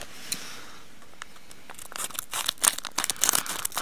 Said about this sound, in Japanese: じゃハサミ使わせていただきます。